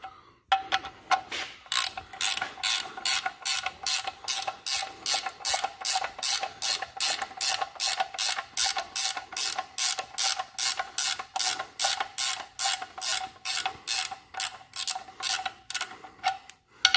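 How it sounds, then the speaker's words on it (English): A hand wrench ratchets steadily on a bolt on a Volkswagen, near the intercooler, giving a long run of fast, even clicks, loud and close with no talk. "I'm gonna grab my wrench"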